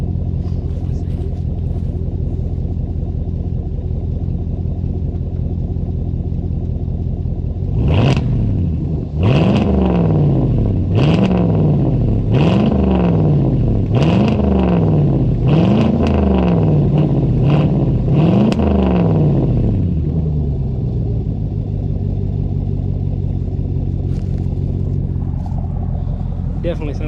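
A 2021 Chevrolet Silverado engine fitted with an S&B cold air intake idles with a steady low rumble, then revs in about eight quick, loud rising blips with popping, recorded close at the rear before settling back to idle.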